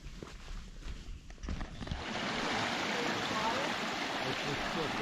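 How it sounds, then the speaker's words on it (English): A small waterfall in a forest stream rushes as a steady broadband wash of falling water, rising after a couple of seconds of footsteps and rustling nearby and then holding continuous. "A cool little waterfall out there."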